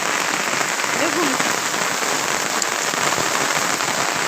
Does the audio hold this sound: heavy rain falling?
yes